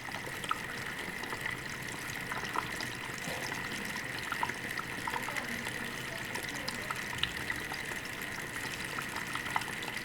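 Coolant trickles and splashes continuously at low volume inside a PC case water-cooling reservoir, a steady gurgling flow with small drips and no voices.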